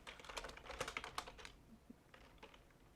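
Quick bursts of typing on a computer keyboard, with dense, rapid key clicks in the first second and a half, then a few sparse taps toward the end, close and fairly quiet.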